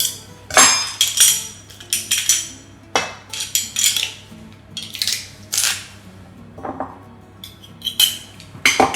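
Garlic cloves are pressed in a Zyliss garlic crusher, bringing a run of close, sharp metallic clicks and clinks of the tool's handles and metal parts, irregular and crisp, with no talking over them.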